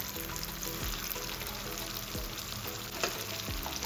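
Fat sizzling steadily in a hot pan with onion and tomato, cow-fat pieces going into a home-cooked tripe curry; a continuous close frying hiss with occasional stirring clatter, no talking.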